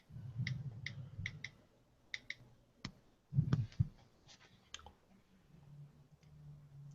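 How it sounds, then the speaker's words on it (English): Keys on a computer keyboard are tapped in short, quiet bursts, producing soft close-up clicks and a few dull thumps separated by pauses. "I'm typing that in"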